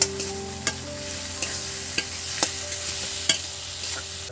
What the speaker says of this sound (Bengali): আর আমার মা ওদিকে বানাচ্ছে আপাতত এখন কুঁদরি ভাজা।